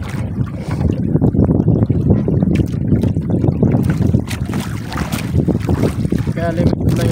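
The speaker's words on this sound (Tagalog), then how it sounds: "Malalaki yung alon." Big waves churn and slap around a fishing boat at sea under constant wind buffeting the microphone, with faint voices mixed into the roar.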